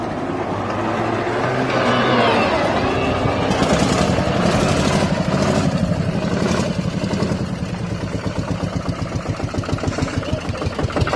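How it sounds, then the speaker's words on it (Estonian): A tractor engine runs steadily at a loud, close idle while towing a Nissan, its low throb turning into a rapid even chugging toward the end. "Traktori töötab."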